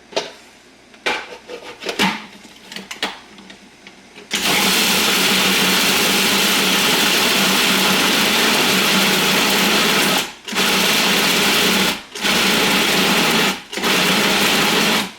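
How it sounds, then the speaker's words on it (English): A food processor grinds a chicken meatball mixture, a loud continuous motor whir running steadily after a few seconds of quieter clatter, cutting out in several brief pauses before restarting. "we are going to grind this up together"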